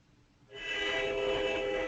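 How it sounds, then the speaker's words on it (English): A train at a nearby station comes in abruptly and loudly after a quiet start, holding a steady, horn-like rumble with sustained tonal bands to the end. "Sandy's next to a train station, it sounds like"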